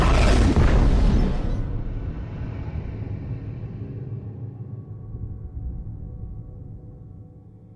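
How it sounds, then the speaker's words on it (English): A tunnel being detonated in the BioShock 2 video game: one loud, deep explosive boom at the start that fades into a long rumbling decay, with no voices. "Detonate the tunnel!"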